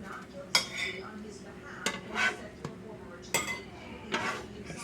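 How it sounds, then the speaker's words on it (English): Pancakes being flipped on a grill, with a run of sharp metallic spatula scrapes and clinks spaced about a second apart, close and moderately loud. "I'll flip this one just to show you"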